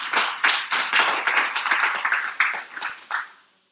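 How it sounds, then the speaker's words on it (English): A small group applauds after an academic conference presentation, with a dozen or so distinct, crisp clapping bursts in an uneven rhythm, close and fairly loud, ending abruptly into quiet. "A round of applause, please."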